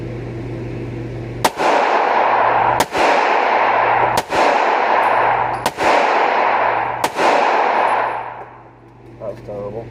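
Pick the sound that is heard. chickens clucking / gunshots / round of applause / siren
gunshots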